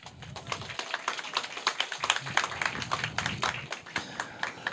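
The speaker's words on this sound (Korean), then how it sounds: "박수 한번 치세요." Lively audience applause at a political party induction and candidacy declaration ceremony in an office, many hands clapping at once in a dense, steady burst that runs throughout at close range.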